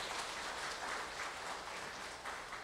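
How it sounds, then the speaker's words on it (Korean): A church congregation claps at a Sunday worship service, giving dense, steady applause that carries on evenly throughout and sounds faint and distant, with no talking. "우리 격려의 박수 한번 하실까요?"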